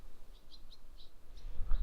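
Birds chirp outdoors beside a medieval church ruin in Essex, a few short high calls spaced through a quiet scene, faint and somewhat distant, with a low rumble of movement near the end.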